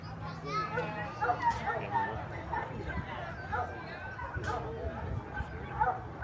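Plott hound dogs bark repeatedly at close range, with yips and whimpers mixed in, while people talk over them.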